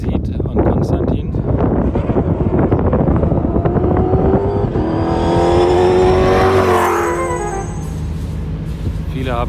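Dakar 2020 rally race car engine at the start, loud close revving with a rising whine that peaks and fades as the car pulls away, over wind and crowd noise.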